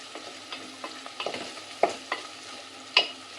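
Chicken fries with turmeric in a pan, a quiet sizzle broken by intermittent stirring knocks and scrapes, a few sharper clinks standing out.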